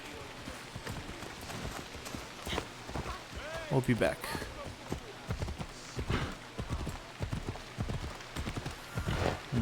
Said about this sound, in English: We'll hop onto a horse once we're on the main road here